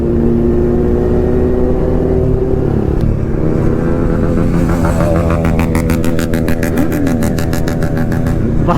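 A Kawasaki Ninja ZX10R superbike runs on a public road with a loud, close engine drone, then revs hard into a rapid pulsing, rising roar as it accelerates, with other traffic noise mixed in.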